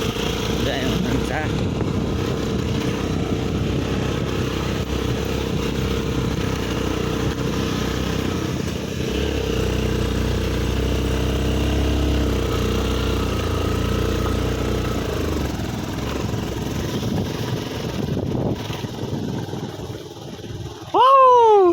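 A motorcycle being ridden through a forest: a steady mid-pitched engine drone runs almost continuously and swells in the middle, while a voice talks over parts of it. A sudden loud swooping sound comes at the very end.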